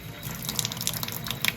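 Wet scrubbing of brass-coated dresser hardware with Barkeeper's Friend and a little water, a quick series of close, gritty, splashy strokes over a soft watery wash, no talking.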